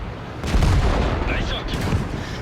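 A single heavy tank cannon blast with a booming, echoing tail in a video game, followed by faint game sound effects.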